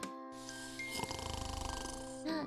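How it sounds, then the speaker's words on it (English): Rhythmic snoring from a sleeping character in NieR: Automata, a steady run of short rasping pulses over a sustained musical drone, with no talking. "Snore, snore, snore, snore, snore."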